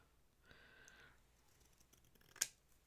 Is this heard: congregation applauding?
no